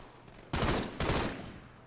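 Gunfire in the video game Halo 2 on PC: two loud, dense bursts of rapid shots, close and harsh, the second right after the first.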